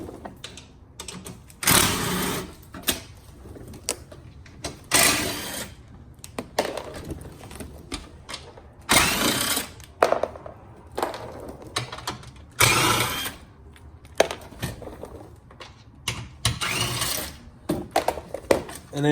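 A 10mm socket wrench ratcheting repeatedly under a Fiat 500 Abarth to remove the skid plate: bursts of rapid metallic clicking, close, separated by short pauses.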